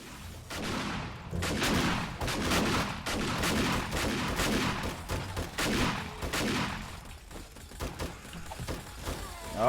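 Defensive turrets fire continuously at an incoming zombie horde in 7 Days to Die, a dense, sustained rattle of repeated shots and impacts that stays loud through the whole stretch.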